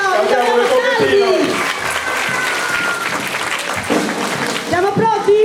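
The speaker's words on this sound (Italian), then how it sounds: "Un applauso" Audience applause at a children's carnival festival in Bitti, Sardinia, a sustained burst of clapping from a crowd that swells and fades, with a voice speaking over it near the end.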